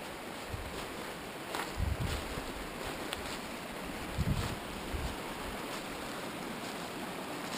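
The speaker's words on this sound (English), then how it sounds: "Listen to that beautiful water." A snowmelt mountain creek flows steadily as a soft, even rushing hiss, fairly faint and distant, with a few low thumps and wind buffets breaking through now and then.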